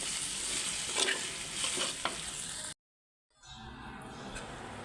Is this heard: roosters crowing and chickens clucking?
no